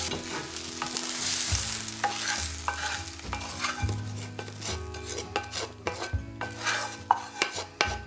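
Spice mixture stirred into pulao in a pan, a steady scraping and rustling of a spoon turning rice with soft sizzle beneath, continuing in repeated strokes without talk; sweetened pulao with a little sugar, cooked in Indian restaurant style.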